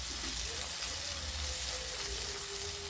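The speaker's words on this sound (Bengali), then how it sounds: "হালকা করে একটু ভেজে নেওয়ার পর জল দিয়ে দেবো অল্প করে" Chicken frying with ginger in a pan, a soft, steady sizzle with faint stirring underneath and a thin tonal whine, close and even, without voices.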